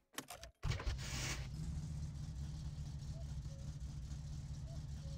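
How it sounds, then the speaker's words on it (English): A car engine in the video game My Summer Car cranks with a brief whir, then catches and settles into a steady low idle that continues to the end. "Let's start the car first"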